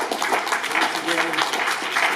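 An audience claps steadily for young debaters, a continuous patter of applause at moderate volume with a voice speaking over it.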